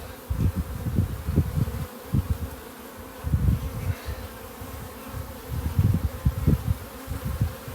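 Honey bees buzz around an open nuc hive, a low droning hum with swelling passes of individual bees flying close by, steady and unaccompanied by talk.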